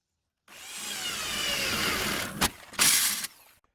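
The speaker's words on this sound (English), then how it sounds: "and then I'm going to start sanding that" A power tool whirs steadily against a spotlight mount on a 4x4 or car, a loud, close grinding hiss that stops briefly, then returns with a harsher burst before cutting off.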